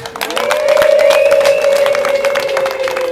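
A festive crowd at a celebration breaks into sustained applause and cheering, with a loud, high wavering ululation-like tone running over the clapping throughout.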